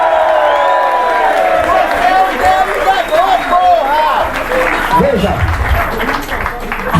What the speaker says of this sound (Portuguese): Salva de palmas para a ameaça fascista.